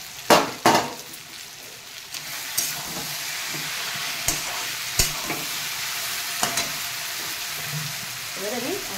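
Shrimp fries in a pan for a Bengali kachu loti dish, a soft sizzle running throughout while a utensil knocks and scrapes the pan in sharp, scattered strikes.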